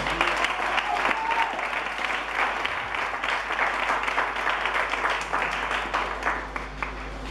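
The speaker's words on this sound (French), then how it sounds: "Acclame très fort le Seigneur." A church congregation applauds during a Sunday service, dense sustained clapping filling the room for several seconds at a loud, even level before easing slightly at the end.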